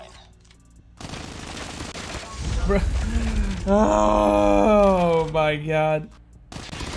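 An MSMC submachine gun firing in Call of Duty Mobile, a sustained stream of shots under a player's loud groaning exclamation and in-game noise.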